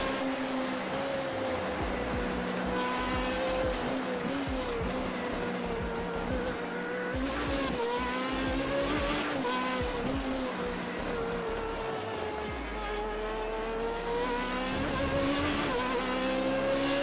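Formula 3 race cars during qualifying at Zandvoort, with a continuous engine whine rising and falling in pitch as cars pass and shift gears, loud and sustained throughout.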